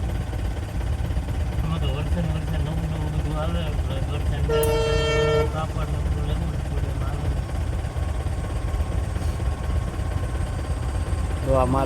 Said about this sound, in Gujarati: તો આ માલગાડી આવી ગઈ છે.